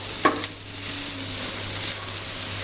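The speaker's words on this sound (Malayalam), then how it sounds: "അതിലേക്ക് നമ്മൾ ചീര അരിഞ്ഞ് വെച്ചിരിക്കുന്നത് ചേർക്കുന്നു." Chopped red spinach dropped into a hot pan, a brief clatter as it lands, then a steady, moderate sizzle with light stirring.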